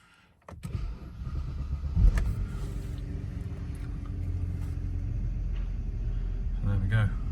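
A 2008 BMW 525i E61 Touring M Sport turns over and catches after a sharp key click, then settles into a steady, close idle hum that runs on to the end.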